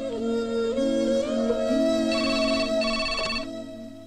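A telephone rings in a repeating electronic ringtone pattern, with several bursts over a few seconds, close and clear and heard alone until it cuts off near the end.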